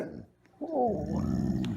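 A pet dog at home in a backyard tent gives a short, low, rumbling growl-like grunt, close up and fairly quiet, after a brief pause.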